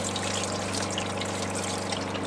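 Water gushes steadily from a repaired water pump, a close, continuous splashing flow with an underlying pump hum and no talk.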